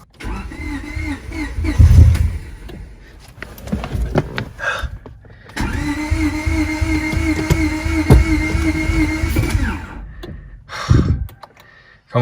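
An old car that had sat unused, with regular gas, cranks over repeatedly with a rhythmic starter churn, pausing between attempts; loud and close, without settling into a steady idle.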